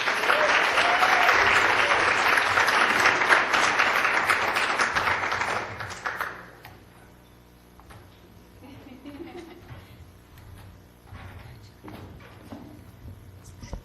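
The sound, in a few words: audience applause welcoming speakers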